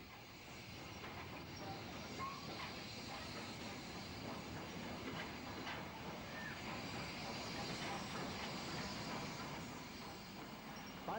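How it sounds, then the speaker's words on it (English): Steam locomotive City of Nottingham running tender first, hauling empty rail tour coaching stock, heard as a steady, dense rumble and hiss of train movement that stays even throughout without clear breaks. "City of Nottingham unusually running tender first, hauling empty rail tour coaching stock."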